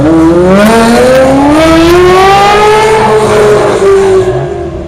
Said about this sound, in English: this V8, nothing sounds like it